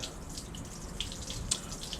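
Water drains from the hot water heater tank of a 2002 Roadtrek 190 Popular Class B camper van during winterizing, a faint, steady trickling run with a couple of small drip ticks.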